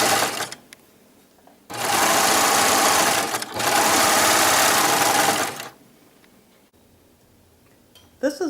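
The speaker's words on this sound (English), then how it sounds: "I'm going to just finish it with the serger on the whole thing" A serger runs in two loud, fast bursts of rapid mechanical stitching, a few seconds each with a short pause between, then stops to quiet.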